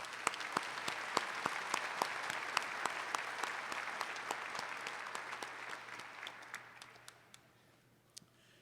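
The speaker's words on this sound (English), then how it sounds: "Let's give them a big round of applause." University commencement audience applauding for platform guests, a steady wash of many hands clapping with sharp individual claps standing out, tapering off near the end.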